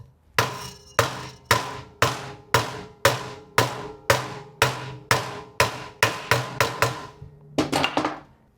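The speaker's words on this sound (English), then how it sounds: "I'm going to tap it with this mallet." A mallet taps a bike part into aluminum threads, about fourteen sharp, evenly spaced ringing knocks close by, with a quicker cluster of lighter taps at the end.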